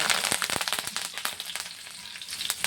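Curry leaves hit hot oil with cloves, cinnamon and black pepper while cooking tomato gojju, giving a loud, steady sizzle peppered with sharp crackles and pops, close up and with no voices.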